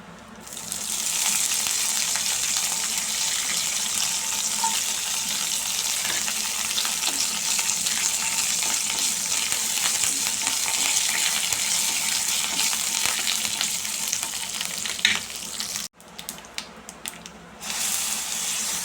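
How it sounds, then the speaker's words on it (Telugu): A loud, steady frying hiss fills the pan nearby, then breaks off briefly and returns with some crackling near the end. "ఇంకేనండి పోపు వేసుకునేది రెడీ అయిపోయింది"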